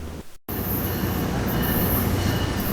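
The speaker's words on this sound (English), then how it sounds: "I was here to catch O721, a weekday local that runs from Hialeah Yard down to Homestead." A CSX O721 local freight train rumbles through Hialeah Yard, a loud steady roll of railcars with high wheel squeal above the low rumble, following a brief dropout at the start.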